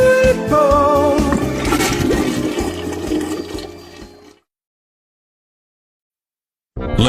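A toilet flushes with a loud, close rush of swirling water that fades out over about four seconds, followed by silence and then a sudden new sound at the very end.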